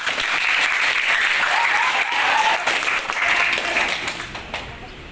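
Schoolchildren in a classroom give a continuous round of applause, a dense clatter of many small hands nearby that tapers off toward the end, with some voices underneath.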